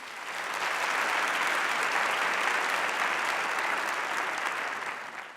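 Steady applause from an evening celebration audience for the Albert Einstein High School dancers, swelling in quickly and holding as a dense, even roar of clapping before tapering slightly at the end.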